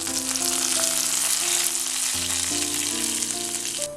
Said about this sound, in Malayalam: ഈ വറുത്ത് വെച്ചേക്കുന്നത് ഈ കറിയിലേക്ക് ചേർക്കാം.